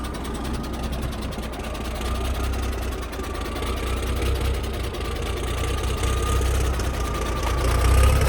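An old tank's diesel engine idles on its own fuel tanks after repair, a steady close rumble with a faint whine that swells slightly louder toward the end.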